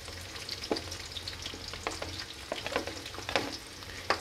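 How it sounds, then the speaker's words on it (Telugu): Onions, green chillies and curry leaves fry in hot oil for mutton drumstick curry, giving a steady close sizzle with scattered crackles and pops, and no voices over it. "దీంట్లో ఎర్రగడ్డలు, పచ్చిమిరపకాయలు, కరివేపాకు వేసి వేయించుకోవాలండి."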